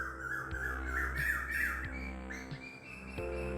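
Birds squawking and cawing, crow-like calls rising and falling in a fairly loud, busy stretch with a steady low background hum.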